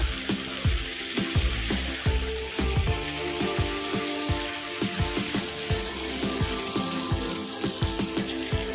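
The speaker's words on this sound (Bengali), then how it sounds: "আমি ভেজে রাখা মাছের মাথাগুলো দিয়ে দেবো। ভালো করে মিশিয়ে নেব।" Fried boal fish heads being mixed in a pan for a fish-head chorchori fish curry: a steady close sizzle punctuated by repeated scraping and knocking stirs at an uneven rhythm, with no talking.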